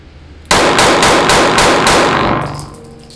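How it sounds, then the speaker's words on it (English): A SCCY CPX-2 budget pistol fired six times as fast as possible at a range: loud, evenly spaced sharp reports in quick succession, followed by a ringing decay. "six rounds in the chest as fast as I can."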